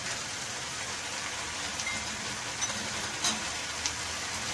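Two bay leaves sizzle in hot oil in a pan while making lasooni paneer, giving a steady, even frying hiss with a few soft crackles and pops near the end.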